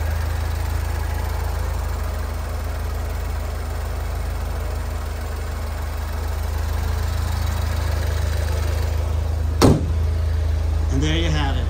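A 2009 Saturn Sky Redline, 5-speed with low mileage, idles steadily after a cold start following an overnight sit, a constant low engine drone throughout, with a brief sharp click near the end and a faint squeaky sweep after it.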